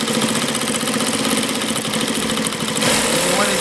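Atlas USA AT2284 three-step zigzag sewing machine sewing stretch fabric: a loud, continuous, rapid whirring and ticking motor drone, close and steady throughout, with a slight shift in tone near the end.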